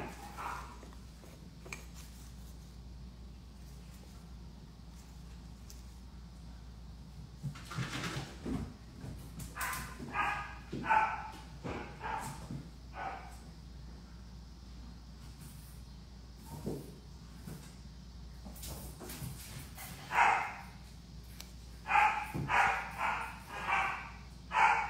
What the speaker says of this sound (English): the dog is playing